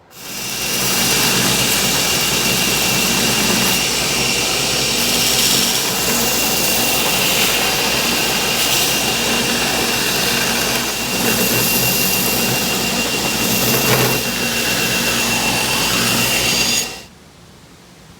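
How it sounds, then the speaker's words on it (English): Loud, continuous grinding of a steel knife blade on an abrasive belt, a harsh roaring whine held steadily for many seconds before cutting off abruptly. "Maybe 30 minutes of grinding here, and this thing will be ready for heat treat."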